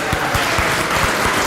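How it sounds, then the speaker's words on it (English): Audience applause at a bunq product update event: a dense, steady wash of many hands clapping at full strength, with no voices over it. "applause for yourself"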